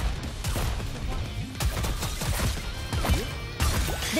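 Gunfire and crashing impacts in the game NIKKE, a busy, mid-level stream of shots and hits during a police escort mission, with scattered game voices and effects mixed in.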